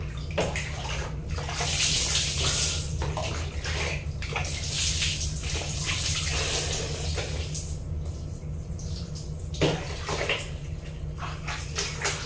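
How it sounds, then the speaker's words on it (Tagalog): Water from a basin is poured and splashed while rinsing hair in a bathroom, a steady close wash of running, splashing water with a few louder pours, heard alone. "So, pwede na itong banlawan guys."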